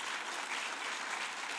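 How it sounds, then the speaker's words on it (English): An audience at a political party candidate forum applauds with steady, dense clapping that holds at an even level throughout this brief moment. "give these guys a round of applause"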